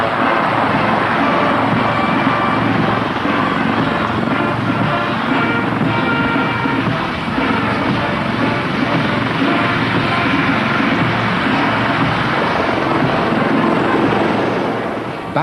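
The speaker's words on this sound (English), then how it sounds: "This is the most elaborate helicopter parade ever staged in Britain." Army helicopters fly past during an Army Air Corps parade at Middle Wallop, a loud continuous rotor and engine drone with wind buffeting that holds steady throughout.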